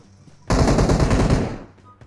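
Close, loud machine-gun burst in PUBG Mobile on the Sanhok map, a rapid string of shots lasting about a second before trailing off, with no speech over it.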